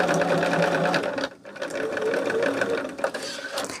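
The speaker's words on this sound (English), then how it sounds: "Now I'm sewing over the handles." A sewing machine stitches steadily through a quilt project with handles, its motor running continuously and loud up close, with a brief pause near the middle before the stitching resumes.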